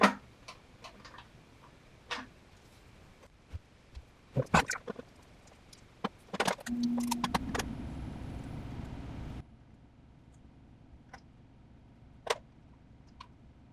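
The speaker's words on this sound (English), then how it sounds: "start tightening the nut and walk the nut down the stud as you tighten it" Sharp, close ratcheting clicks in short irregular bursts while a nut is tightened and walked down an intake stud on a VW Super Beetle engine, with a louder scraping rattle partway through and then quiet.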